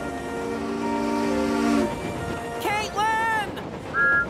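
Cartoon steam engine Thomas chugging along the track, with a steady rolling rumble, whistle-like tonal toots and sliding pitched sounds layered over it.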